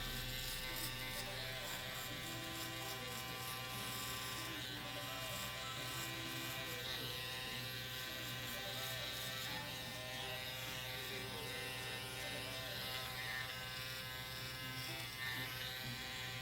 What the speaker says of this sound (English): I will finish it up, making this area nice and smooth with my shaver.